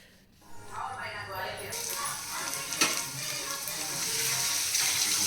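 Chopped onions fry in a pan for a vegetable Maggi, a steady sizzle that swells after a quiet start and continues to the end.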